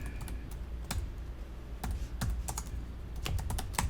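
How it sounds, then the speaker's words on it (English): Rapid, irregular clicks of keys being typed on a computer keyboard, fairly close and steady over a few seconds with no voices. "let me go ahead and type that there"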